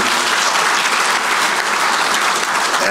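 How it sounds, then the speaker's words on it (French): A crowd of traditional Baoulé chiefs and audience members applauds vigorously at a gathering addressed by a prime minister, a dense, continuous wash of clapping that stays loud and even throughout, with no voices. "Et je voudrais que vous les acclamiez pour les encourager."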